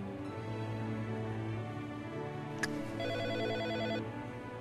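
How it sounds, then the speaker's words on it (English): A cell phone rings in a Las Vegas hotel room, its repeating electronic ringtone pattern coming through fairly quietly over a steady background hum, with one sharp click partway through. "that's a cell phone ringing"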